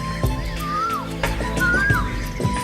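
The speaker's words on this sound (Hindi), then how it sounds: "कोयल" Asian koel calling in a forest, two clear rising-then-falling whistled notes spaced apart over a steady background hum, with scattered clicks and knocks between them.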